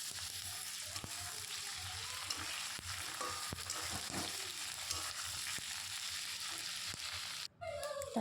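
Ginger and garlic paste sautéing in a pan for an egg and potato curry, a steady broadband sizzle with periodic scraping stir strokes, close and continuous, ending in a brief pause.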